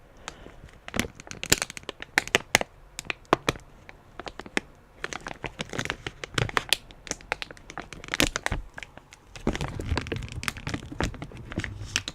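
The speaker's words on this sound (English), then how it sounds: "I'm slowly just crinkling it." A Rolo candy bag is slowly crinkled and crushed close up, giving irregular crackling bursts that grow denser and louder toward the end, with no talking.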